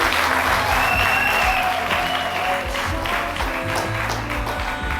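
Guests at a chic, romantic wedding ceremony in Brazzaville break into loud, sustained applause, a close, thick wash of clapping with some crowd murmur that keeps going at an even level throughout.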